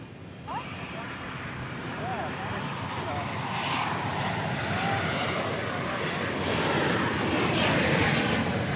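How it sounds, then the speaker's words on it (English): Viva Aerobus airliner passing by, a jet engine roar that builds gradually and grows louder toward the end as the plane comes closer, with a voice talking faintly beneath it. "Here comes the Viva Aerobus"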